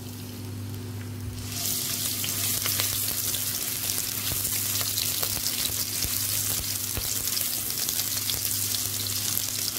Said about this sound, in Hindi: जब ये ऑयल थोड़ा सा गर्म हो जाएगा, तो फिर इसमें ये प्याज डाल देंगे।